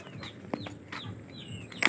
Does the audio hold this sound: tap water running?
no